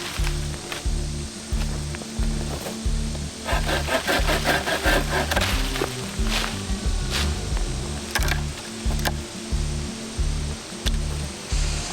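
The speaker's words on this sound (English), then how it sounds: "I'm gonna trim this thing up a little bit, start the mock scrape underneath it," A tree limb trimmed for a mock scrape outdoors, with a steady rhythmic rasping stroke repeated close by, plus scattered crisp snaps and rustles of leaves and twigs, no voices.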